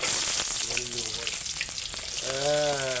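Onions fry in hot oil in a home kitchen pan, a loud continuous sizzle with crackling bursts as something is stirred in, while faint voices and a few whistling tones sound in the background.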